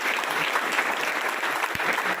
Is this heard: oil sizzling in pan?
no